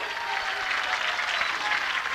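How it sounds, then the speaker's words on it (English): A crowd at the 1990 Nintendo World Championships claps steadily in sustained applause as a contestant is introduced, a dense, even patter of many hands with no break. "how about a big round of applause for Ray Caston."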